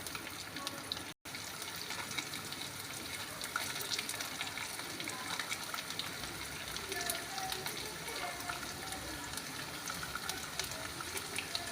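Chopped garlic fries in a pan for a tomato chutney, producing a steady, dense hiss that continues evenly throughout, close and fairly loud.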